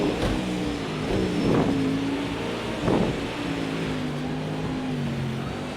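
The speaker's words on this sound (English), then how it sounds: "Oh, I can hear the Lamborghinis on the other side of the wall." Lamborghini engines in a racing video game roar steadily, with the pitch rising and falling as they rev, plus a couple of brief surges in intensity.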